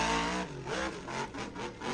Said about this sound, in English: that truck sounds like it's really revving up a lot